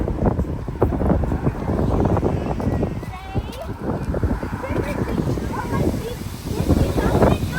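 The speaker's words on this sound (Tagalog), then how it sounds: "Wow, lakas ng hangin." Strong wind buffets the microphone in continuous gusty roaring, with people talking now and then underneath.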